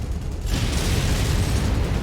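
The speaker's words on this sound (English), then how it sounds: "Let's try the rockets." Rockets fire and burst in MechWarrior 5 combat, a loud rumbling blast that swells after a short lead-in into a sustained roaring, booming wash of explosions, close and without speech.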